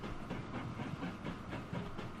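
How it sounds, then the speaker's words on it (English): A train rumbles steadily with a rhythmic clatter and a hiss through a UK railway scene in Transport Fever 2, a constant dense roar with no voices. "that's just a generic London North Western Railways train as well"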